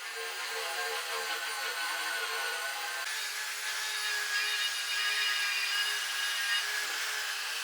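A continuous high-pitched whirring and scraping from a wire brush spinning on a drill, grinding rust off an air compressor, steady and fairly close throughout.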